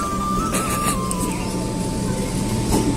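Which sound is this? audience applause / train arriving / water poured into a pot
train arriving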